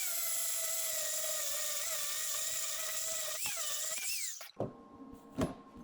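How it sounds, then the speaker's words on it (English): An angle grinder grinds out a stick weld on steel, giving a loud, steady high whine that winds down after about four seconds, followed by a few sharp clunks and scrapes. "I'll try to grind this out so we can see what it looks like."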